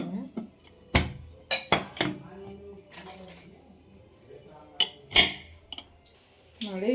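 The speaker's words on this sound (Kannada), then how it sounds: "ಇವಾಗ ಕುಕ್ಕರ್ ಕ್ಲೋಸ್ ಮಾಡ್ತೀನಿ." A pressure cooker lid being closed over toor dal, with scattered metallic clanks and scrapes of the lid and pot, near and moderately loud, separated by quiet gaps.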